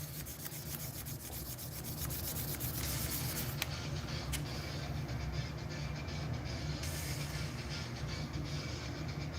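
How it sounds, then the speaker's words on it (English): A metal key being wet-sanded by hand on wet sandpaper at a workbench, a continuous low gritty rubbing scrape that holds steady throughout, with no voices. "It's wet sandpaper,"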